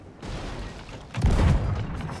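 Ship cannons in the pirate game Sea of Thieves fire in a deep boom around the middle, preceded by a softer thud, over a background of sea and game ambience.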